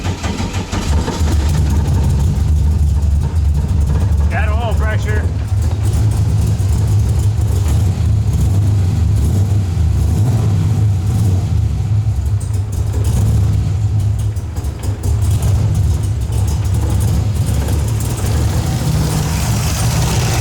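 A Mazda RX-7 FC rotary engine with a new engine setup, long abandoned, runs loud and steady close by at a rough, rumbling idle for the whole stretch, with slight swells in revs and no voices over it.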